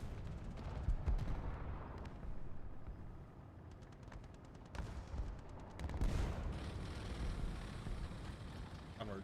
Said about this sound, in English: I am a squid when I feel threatened to pop my smoke grenade